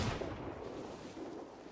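A single heavy cannon blast from a ship in the pirate game Sea of Thieves, a loud boom that rolls into a broad, fading roar over under two seconds.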